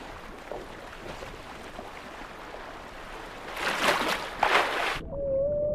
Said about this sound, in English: Sometimes whales use their own sonar, making sounds which can travel many miles, bouncing back from underwater mountains.